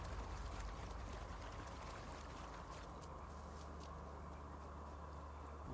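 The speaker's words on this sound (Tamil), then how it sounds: "அந்த தண்ணி சவுண்ட் கூட பாருங்களேன்." Flowing water in the video game Assassin's Creed 2, a steady rushing, trickling stream of moderate loudness that continues evenly throughout with no talking.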